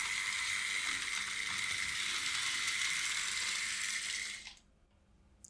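A Märklin model train locomotive motor whirs at a steady high pitch for several seconds and then cuts off abruptly, leaving faint background noise.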